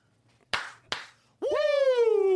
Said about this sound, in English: Those were crisp claps.